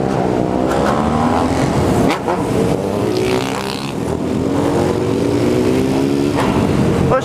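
A loud car engine revs and roars continuously in a favela street, pitch climbing and falling through several surges, close by with no talking.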